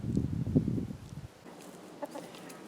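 A backyard flock of chickens clucks softly and close by in a short burst of low murmuring calls, then goes quieter with a few faint scattered clucks.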